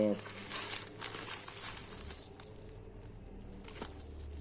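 Thin plastic crinkles and rustles in short bursts close by, with faint talking around it.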